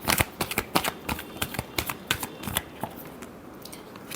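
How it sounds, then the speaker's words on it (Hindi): A deck of cards is shuffled up close in quick riffling bursts, a run of sharp crisp flutters in uneven rhythm that grows sparser toward the end, with no talk. "Last shuffle."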